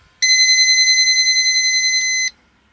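Autogauge EGT and boost gauges give a startup alarm: one steady electronic buzzer tone lasting about two seconds, sharp and close, cutting off abruptly.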